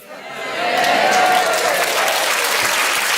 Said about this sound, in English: You'll do anything for applause, won't you?